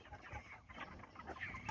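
Freedom Ranger meat chickens clucking softly in a pasture, a faint, continuous murmur of several birds with scattered clucks throughout.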